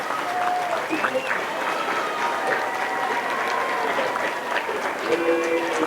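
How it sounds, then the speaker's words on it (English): Sustained, loud applause from an audience at a middle school promotion ceremony, with students standing to clap for parents and guardians. Dense clapping fills the full stretch, with cheers and voices mixed in. "give them a round of applause"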